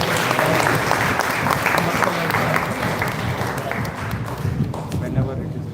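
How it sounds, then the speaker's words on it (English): A warm round of applause from an audience at an academic event fills the room as thick, continuous clapping, fading slightly toward the end, with murmured voices underneath. "please join me in expressing our sincere appreciation to Professor Acharya sir with a warm round of applause"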